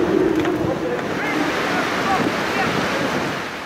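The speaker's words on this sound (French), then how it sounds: "Il y a des rafales à 100 km/h de vent." Strong, continuous wind gusting to about 100 km/h roars over the microphone with a rushing, surf-like wash, loud and unbroken throughout, at an outdoor cyclocross race.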